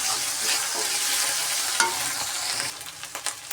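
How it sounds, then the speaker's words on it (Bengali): Ground spices fry in a pan with a bright, steady sizzle, stirred now and then with scraping strokes and a sharp knock midway, before the frying fades to lighter crackles and taps. "এই জন্য মশলাটাকে সুন্দর করে ভাজতে হয়"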